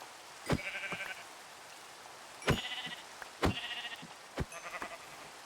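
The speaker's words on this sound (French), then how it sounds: "Encore d'autres moutons." Four short, nasal video game sheep bleats, each set off by a sharp thud, spaced a second or so apart against a soft hiss.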